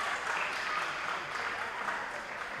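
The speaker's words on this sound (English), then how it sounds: "And there's the cheer you may be hearing in the background." Spectators at an under-15 cricket final cheer and applaud a boundary four, a soft, steady wash of clapping and crowd noise heard from a distance, fairly faint throughout.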